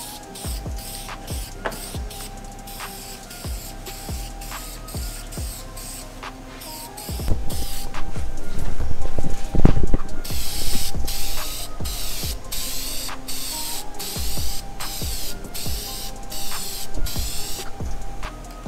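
Aerosol spray cans laying clear coat on an engine valve cover for an Acura TL Type-S, with repeated bursts of hissing spray between short pauses, growing louder and busier midway.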